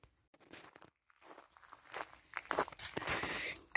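Footsteps crunch outdoors as someone walks outside, a string of soft irregular steps that grow louder and busier toward the end, with no talking.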